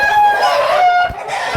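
An Andaman Nicobar black rooster, a year and a half old, crows loudly and up close in one strong, sustained call that breaks off near the end.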